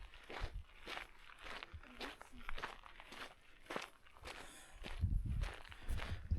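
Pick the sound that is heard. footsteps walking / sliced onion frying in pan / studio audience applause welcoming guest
footsteps walking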